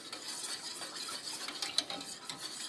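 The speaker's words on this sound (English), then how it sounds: "So we're going to mix the milk and the egg yolks." Milk and egg yolks are whisked in a bowl, giving a quiet, steady run of light clicking and scraping strokes with one brief sharper tap near the middle.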